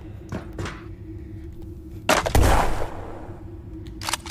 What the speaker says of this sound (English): Really good nade, Michael.